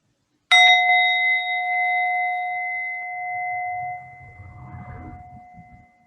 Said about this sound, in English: when you hear the sound of the bell